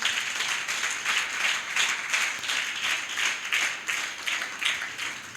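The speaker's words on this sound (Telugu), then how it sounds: "అందరూ ఒకసారి గట్టిగా చప్పట్లు కొడదాం." A church congregation claps loudly together during a worship service, a dense continuous rhythmic applause with regular pulsing beats throughout, no talk.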